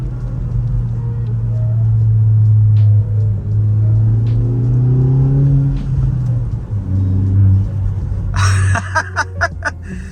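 A Kia Forte GT with an MBRP axle-back exhaust revs up and down in deep, rumbling surges, then ends in a burst of sharp crackling backfire pops.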